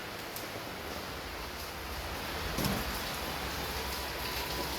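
Steady rain pours outdoors during a storm, a dense, even hiss of drops hitting surfaces that holds at moderate level throughout with no voices.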